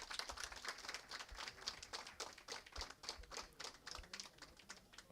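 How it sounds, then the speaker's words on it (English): Scattered clapping from a conference audience, a light, fairly faint patter of separate claps at an uneven rhythm rather than a dense roar. "A big round of applause for him."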